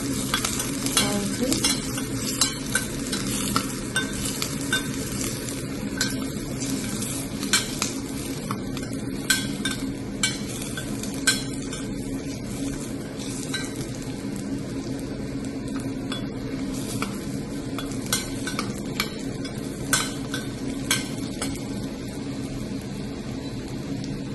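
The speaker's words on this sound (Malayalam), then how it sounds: "ഇപ്പം നമ്മളിവിടെ കടുക് പൊട്ടി വന്നിട്ടുണ്ട് അതിലേക്ക് നമുക്ക് എടുത്തു വെച്ച കറിവേപ്പിലയും പച്ചമുളകും" Curry leaves and green chillies sizzling in a mustard seed tempering in a pan, a steady close frying hiss broken by crackles and occasional clinks of a utensil, no talking.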